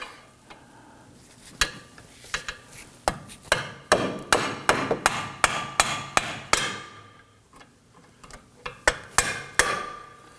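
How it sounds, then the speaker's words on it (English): Sharp metallic hammer strikes on a screwdriver against a clamp on a 2018-2024 Toyota Camry steering rack bellows, ringing out in a steady series of whacks, close and loud, with brief pauses between runs. "I'm going to give it a few whacks with the hammer to see if we can get that to pop off"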